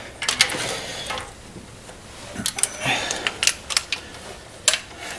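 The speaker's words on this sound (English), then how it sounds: "That's how you torque them." A ratcheting wrench torquing head bolts on a Chevy Vortec 5.7 350, bursts of quick mechanical clicks and ratchet rasps in uneven clusters, close and fairly quiet, with no talking.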